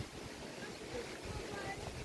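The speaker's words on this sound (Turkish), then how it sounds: "rüzgar sesi kesecek kadar sert rüzgar arkadaşlar" Strong wind roars steadily in the open air of a valley, buffeting the microphone with low rumbling gusts throughout.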